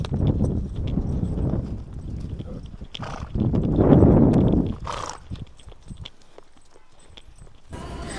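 Hooves of a ridden horse clop along during a riding session, a dense, close, rumbling rhythm that swells in the middle and then thins toward the end.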